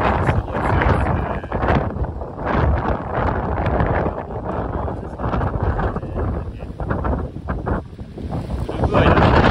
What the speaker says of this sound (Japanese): でこの先がまさに岬の突端の風がすごい強いですね。